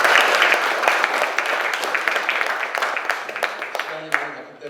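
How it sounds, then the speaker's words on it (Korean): Applause from a church congregation at a thanksgiving service, a dense steady patter of many hands close by that thins and fades toward the end with a few last claps. "박수 한번 다시 드리겠습니다."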